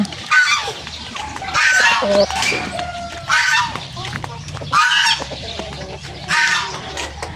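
Backyard chickens cluck over and over, with a hen calling in repeated bursts. A person talks now and then among the birds.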